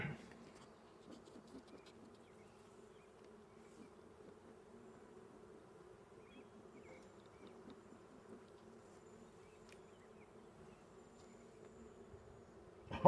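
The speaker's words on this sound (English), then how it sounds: "Oh, listen to them, they are pissed." Agitated honey bees hum steadily inside an opened Layens hive, a dense continuous drone heard close but fairly quiet, with no voices over it.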